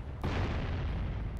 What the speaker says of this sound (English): I want to shoot the crab.